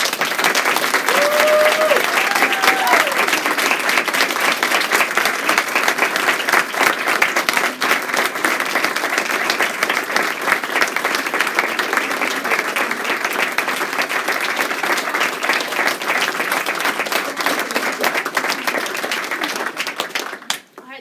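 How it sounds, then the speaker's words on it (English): Sustained applause from a large audience at a performance of The Vagina Monologues, dense and steady clapping for about twenty seconds, with faint voices and a brief whoop early on, fading at the very end. "Can we get another round of applause for the faculty?"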